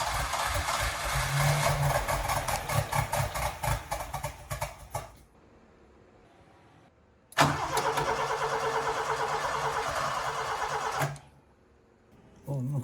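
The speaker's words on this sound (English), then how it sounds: "We are loading plywood with a forklift." A forklift loading plywood runs its engine with a steady mid-pitched rumble that cuts out, restarts and drops away again, heard nearby.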